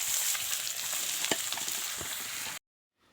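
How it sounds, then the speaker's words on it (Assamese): Pork that was boiled first sizzles and crackles in a pan with chopped potato and banana flower, a steady close frying hiss with light stirring scrapes that cuts off abruptly near the end. "বইল কৰি লৈ এতিয়া ধুনীয়াকৈ ভাজি লৈছোঁ"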